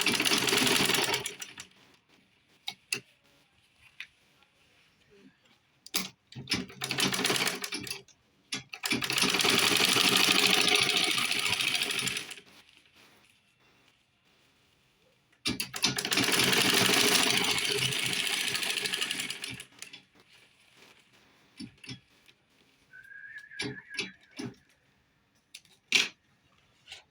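An electric sewing machine stitches a fabric souvenir bag in two sustained bursts of steady whirring, separated by quieter handling clicks and rustles, recorded close with no talking.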